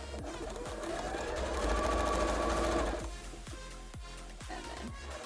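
A sewing machine stitches fabric for a cosplay, running in a steady close whirr of rapid needle strokes that swells and then eases into slower, separate stitches.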